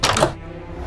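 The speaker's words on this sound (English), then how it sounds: "This is the sound of a door opening." Minecraft door opening in-game: a short wooden creak-and-thunk burst lasting about a third of a second, then a quiet tail, heard alone.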